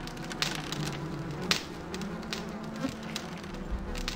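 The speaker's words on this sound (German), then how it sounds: "Die Fliegengeräusche, herrlich." Flies buzz in a video game, a steady insect drone with small clicks and taps over a constant background, fairly close and even throughout.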